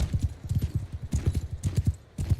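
Several horses gallop in a Mount & Blade battle involving Khuzait riders, their hoofbeats a dense, close, rhythmic drumming of clip-clops that runs continuously through the clip.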